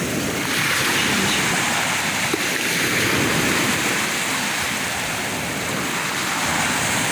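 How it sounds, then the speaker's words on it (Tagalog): Strong ocean waves pound a white sand beach of crushed shell at midday, a loud continuous roar of surf and wash with wind, steady throughout with no voices. "Malakas ang alon ngayon"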